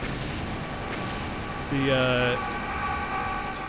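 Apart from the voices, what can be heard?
many monsters screaming at once in the video game Doom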